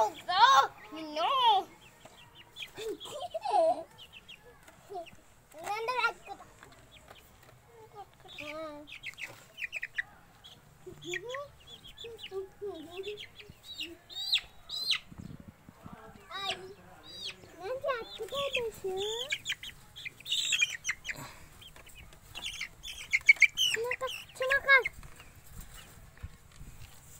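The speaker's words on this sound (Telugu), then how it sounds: "ఇది బ్లాక్ కోడి. మొత్తం బ్లాక్ ఉంది." A black hen clucks and calls in bursts across the clip, close by, with people talking throughout and other fowl sounds mixed in.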